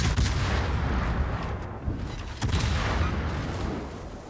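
Enemy guns fire armor-piercing shells during a naval video game battle, a dense rumbling stream of booms and overlapping shots, with louder distinct blasts near the middle and no speech.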